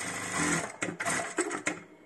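A Kingtex KLD 8520M industrial sewing machine stitches fabric with a close, steady motor whir broken by several short sharp clacks, quiet overall and with no talking.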